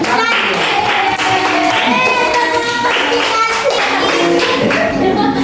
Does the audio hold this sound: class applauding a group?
yes